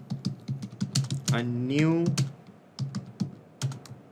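Someone types a message on a computer keyboard, a run of quick, close clicks broken up by a short spoken remark and a rising electronic tone in the middle.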